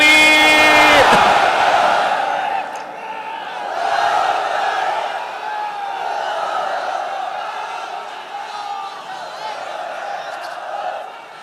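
A large crowd at an outdoor Islamic sermon gathering roars the takbir in unison after the preacher's call, a loud collective chant of many voices that swells and repeats across the clip.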